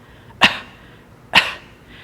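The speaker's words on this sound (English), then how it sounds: "just place your fingers right underneath that xiphoid process and cough" Two sharp, deliberate coughs about a second apart, close and fairly loud, from a person pressing fingertips just under the xiphoid process to feel the diaphragm bulge; quiet between them.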